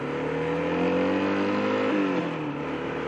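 Yamaha 125 motorcycle engine revving hard in second gear on a 30 mph road, a loud steady buzzing drone with rising harmonics that dips and shifts near the end.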